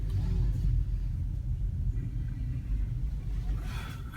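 A BMW idles and creeps into a parking spot at a dealership, its low engine rumble steady and close throughout, with a faint brighter swell near the end.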